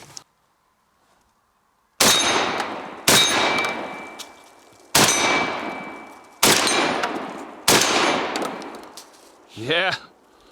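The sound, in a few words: Fed Arm FX3 semi-auto 12 gauge shotgun firing Fiocchi buckshot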